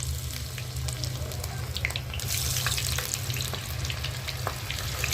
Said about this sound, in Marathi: आता मी याला तेलामध्ये टाकते।